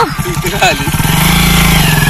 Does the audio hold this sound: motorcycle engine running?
yes